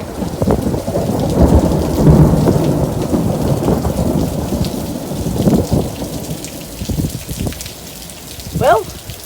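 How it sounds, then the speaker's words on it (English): Rain falls steadily on a barn construction site where concrete forms are being built, with a broad hiss of drops and low rumbles of thunder, plus scattered knocks and brief sounds of work nearby. "it's raining again."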